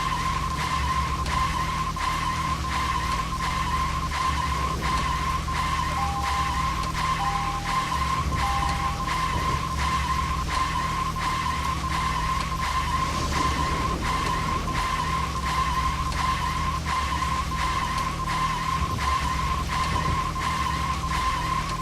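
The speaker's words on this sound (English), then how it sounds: "I don't think the car is supposed to make this noise." A car in the video game Deadly Premonition gives off a steady droning engine hum and a continuous skidding, tire-squeal-like noise with a rain-like hiss, unbroken and loud for over twenty seconds, with no talking.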